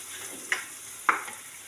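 Onions sautéing in a pan for egg roast, a soft steady sizzle with two sharp scrapes of a spoon against the pan, close by and without talk.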